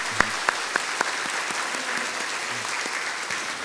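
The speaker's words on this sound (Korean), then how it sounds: "그래도 한번 또 박수 한번 쳐주셔야 되겠죠?" A congregation claps together during a Sunday church service, steady dense applause lasting a few seconds, with a few sharper individual claps standing out near the start and some murmuring beneath.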